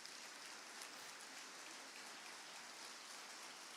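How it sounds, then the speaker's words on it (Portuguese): A church congregation applauds together in steady, dense clapping that holds at an even level from start to finish, with no voices breaking through. "Você pode aplaudir o Senhor pela sua palavra."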